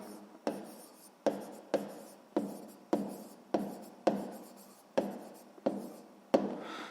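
A pen or pencil writes out a sixth-grade maths answer to an inequality exercise, about ten crisp scratching strokes in a steady rhythm, close and alone.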